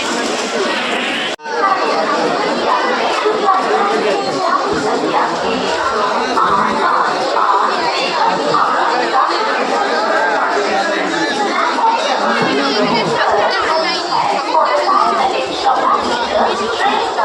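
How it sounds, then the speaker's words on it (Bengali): A dense crowd at Digha, crowding the platform just after a train arrives, fills the air with steady overlapping chatter, footsteps and shuffling, loud and continuous throughout. "দেখো কত ভিড়।"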